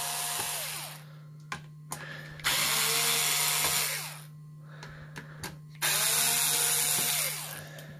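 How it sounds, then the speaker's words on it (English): Cordless power driver backing screws out of the case of an APC voltage-regulating power line conditioner, two long whirring bursts separated by quiet pauses with small clicks of handling, close and clear. "Pull out these screws here."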